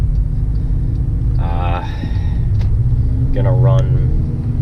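A car driving on the road at the start of a long trip toward the Catskill Mountains in New York, a steady low engine and road rumble heard from inside, with brief talk over it.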